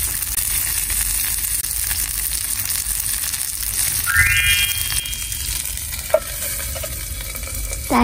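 Food sizzles with butter on a hot stone slab outdoors, a continuous close hiss with light stirring, a rising tonal whine partway through and a single sharp knock near the end.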